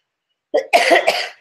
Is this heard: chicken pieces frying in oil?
no